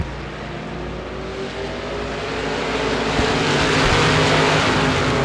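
Limited modified race cars roar away together at a green flag start at Devils Bowl Speedway, a dense, loud wall of engine noise that swells and builds steadily as the field accelerates.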